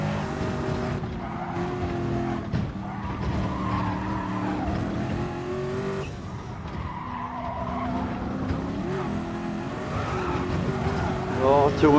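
In a racing video game, a race car oversteers on a corner, its tires squealing and skidding over a droning engine, with someone talking over the action.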